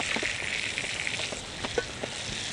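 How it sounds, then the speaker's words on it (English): Steak frying in butter in a pan, a loud, continuous sizzle and crackle close by, with several soft knocks as the meat is flipped and moved around, and nobody speaking. "when you cook it in butter like this, you either want to take a spoon and spoon it over the top, or what you want to do is you want to keep constantly flipping it"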